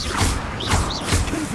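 Three quick, heavy thuds land about half a second apart, each a blunt whooshing blast from the Bombarda spell in Hogwarts Legacy, loud and close.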